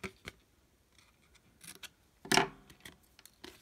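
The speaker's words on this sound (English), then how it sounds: "I think I just cut the tabs completely off because you don't really need them" Scissors snip off paper tabs in a handful of short, crisp cuts close up, with one louder slicing stroke in the middle and light paper rustling between snips.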